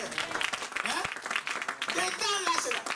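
Church congregation applauding during a sermon, steady clapping mixed with cheers and voices, fairly close and continuous, with speech and shouts running over it throughout.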